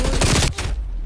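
Gunfire in a Call of Duty prop hunt match: a loud close burst of rapid shots for about half a second, then a short ringing tail fading out, with no talk over it.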